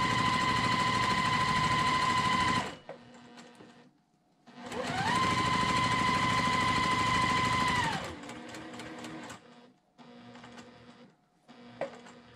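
A sewing machine stitches a mitered quilt border in two long, loud runs of rapid, even whirring, each stopping abruptly, followed by quieter clicks and handling noises.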